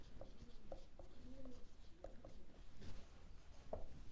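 Marker or chalk scratching out an accounting entry on a classroom board, with short irregular strokes and taps spread across the moment, fairly close and soft over a quiet room.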